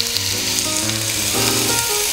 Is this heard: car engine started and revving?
no